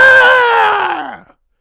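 A human voice imitating a rooster crowing, one loud, strained, scream-like call that holds steady and then falls in pitch as it fades out over about a second, heard alone at close range.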